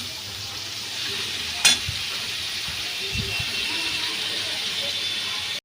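Spice paste and onion frying in a pan in which kochur loti and prawns were fried earlier, with a steady, close sizzle and a brief scraping stir partway through.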